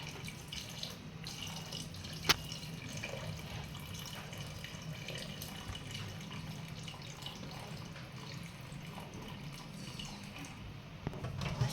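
Crab curry water for a crab rassa is strained in a home kitchen, a faint steady trickle and splash of liquid running for several seconds with a sharp clink near the start.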